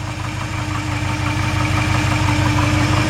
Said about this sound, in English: I love the way these old, you know, these older 50s V8s sound just awesome.